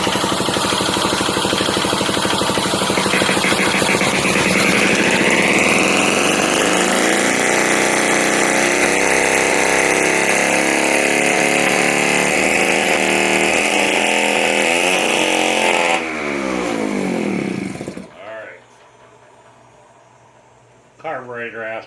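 A 1982 Honda Urban Express Deluxe two-stroke scooter engine running on premix at a high idle, a loud, close, buzzing drone that holds steady, wavers, then drops away and cuts out near the end.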